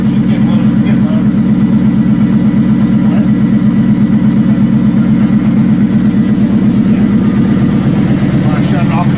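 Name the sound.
car engine running at first start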